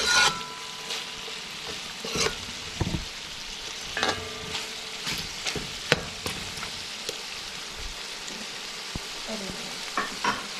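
Cabbage and chicken cook in a pan with a constant crackling sizzle. Scattered scrapes and taps of stirring break through at irregular intervals, close and fairly loud.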